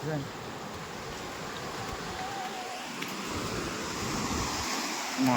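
Sea waves wash steadily onto a shore of very clear water, a continuous broadband rush of surf that swells slightly louder toward the end, with no distinct voices standing out.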